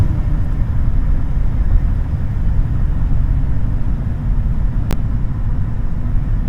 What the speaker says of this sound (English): the engine only gets louder as you go faster